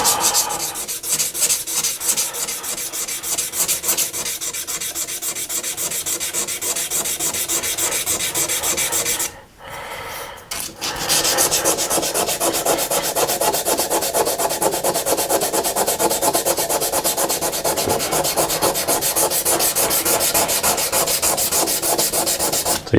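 Steady hand sanding with sandpaper scrubbing on a mat, a loud continuous rasping back-and-forth that pauses briefly midway and resumes, close and alone.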